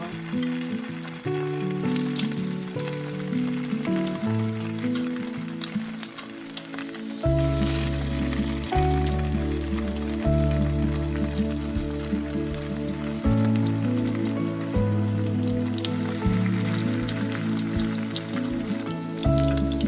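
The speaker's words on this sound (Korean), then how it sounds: "어묵을 튀겨주세요." Fish cakes fry in canola oil in a pan, a dense continuous sizzle with crackling pops throughout, while a loud musical backing runs underneath.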